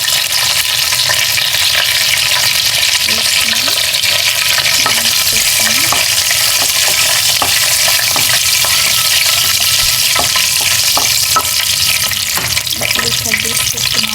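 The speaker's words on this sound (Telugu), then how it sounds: "ఆయిల్ అయితే హీట్ అయిపోయింది. సో ఇందులోకి ఆవాలు, 1 స్పూన్ ఆవాలు, 1 స్పూన్ జీలకర్ర అండ్ ఎండుమిర్చి అండ్ కరివేపాకు" Mustard seeds, cumin, dried red chillies and curry leaves sizzle loudly in hot oil for a palak potato masala curry, a steady dense crackle with scattered sharp pops and occasional stirring, no talking.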